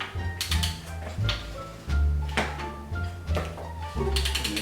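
A ratchet wrench tightening bolts on a Chevrolet 454 big block engine, giving several runs of quick metallic clicking with low thuds between strokes, close and loud, the rhythm uneven as the wrench is worked.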